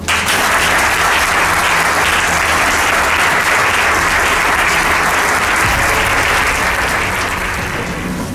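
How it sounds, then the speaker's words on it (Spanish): A congress audience breaks into loud, dense applause, many hands clapping steadily and close for several seconds, tapering slightly toward the end. "si alguien merece de este congreso un aplauso"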